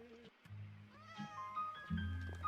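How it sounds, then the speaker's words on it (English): Cat in the Minecraft video game meowing a few short times, close and clear over soft background music. "Ooh, a cat."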